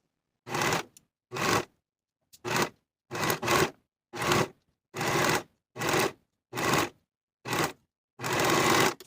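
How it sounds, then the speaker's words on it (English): Sewing machine stitching a sleeve into an armhole in short, even bursts, about ten runs of whirring needle separated by brief pauses, close and clear. "Sew the sleeve into the armhole with a 3/8 inch seam allowance"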